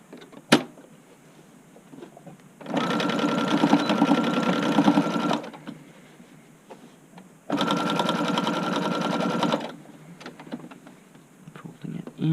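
Sewing machine stitching a button-up shirt, running in two steady, loud whirring runs of a few seconds each, separated by quieter handling sounds and soft talk.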